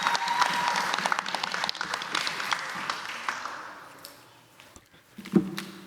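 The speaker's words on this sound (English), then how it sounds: "Y'all give another round of applause." An audience at a spring showcase event applauds, a full burst of clapping that fades out over several seconds, followed by a few faint knocks and shuffles in a quieter room.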